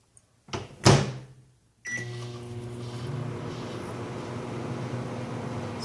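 A microwave oven has its door shut with a sharp clunk and a few beeps, then starts running with a steady, fairly quiet hum and whir set to cook for six minutes. No voices are heard.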